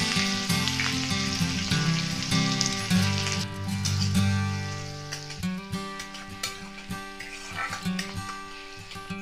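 Ginger and green chilli sizzle loudly in hot oil and butter for a veg tawa pulao, a continuous close crackle that eases slightly toward the end and carries a faint tonal hum underneath.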